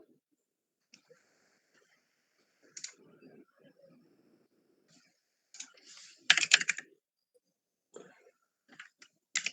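Typing on a newly changed computer keyboard, sparse bursts of soft key clicks with pauses between them, growing busier toward the end, close and quiet with no talk.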